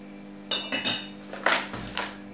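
Spoon clinking against a container while a cooled sugar solution for a biofungicide treatment is stirred, a series of about six sharp, close metallic taps over a steady low hum.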